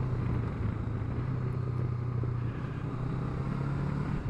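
Honda CB500X 2021 motorcycle running while riding, a steady low engine drone with constant road and wind noise, close and unbroken throughout.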